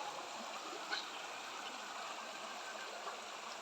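A stream of rust-tinged water flows out from a deep mining area in the Sierra Madre at Sitio Pulang Lupa, Nakar, Quezon, making a steady, even rushing wash with no one speaking.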